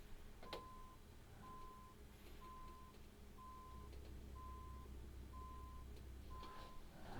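Evenly spaced electronic beeps from a vehicle in American Truck Simulator, about seven regular pulses at a steady rhythm over a low engine rumble, with no talk.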